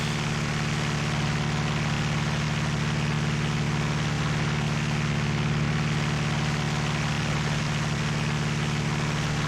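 A Carenado F33A Bonanza propeller plane in X-Plane 11 drones through the clouds with a loud, steady engine hum and propeller buzz that runs unbroken with no talk.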